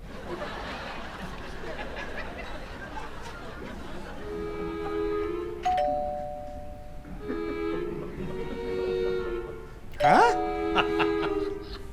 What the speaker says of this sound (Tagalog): Try the doorbell.